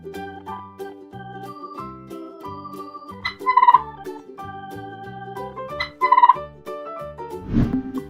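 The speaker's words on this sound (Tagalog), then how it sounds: "Turkey." A turkey gobbles in two loud rattling bursts, close and clear, over a light melodic musical backing, with a short muffled thump near the end.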